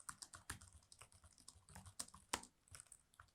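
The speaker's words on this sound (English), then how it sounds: "you can type in anything you want" Keys clack on a computer keyboard while HTML is typed, a quick irregular stream of close, faint keystrokes with no talk.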